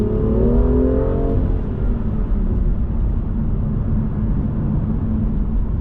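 A BMW engine with Active Sound Designer holds high revs, a loud, smooth rising whine at the start that eases into a steady, dense drone, heard close with no talking.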